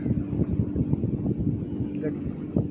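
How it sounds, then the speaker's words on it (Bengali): A passenger launch passes on a river, its low engine rumble mixed with wind buffeting the microphone while a person talks nearby. "এই যে লঞ্চ যাইতেছে"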